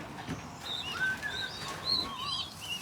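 Young pigeons squeak in a loft, a series of thin high chirps and peeps at moderate distance, scattered irregularly over soft background shuffling.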